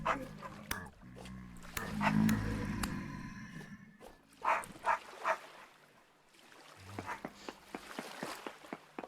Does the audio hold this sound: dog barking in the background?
yes